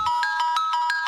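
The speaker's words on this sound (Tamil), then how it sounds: "இது யாரோட ஃபோன்?" A mobile phone ringtone rings in short, evenly repeated bursts of bright, steady tones, loud and close with no talk over it.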